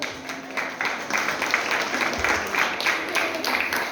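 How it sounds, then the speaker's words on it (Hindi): Scattered applause from a crowd at a school science exhibition, a steady patter of clapping with no voices, moderately loud. "इन बच्चों के लिए भी आप सबकी तरफ से जोरदार तालियां होनी चाहिए।"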